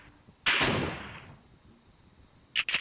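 Gunfire in the Special Forces video game: one loud, sharp shot with a long fading tail, then a quick pair of crisp reports near the end, no talk.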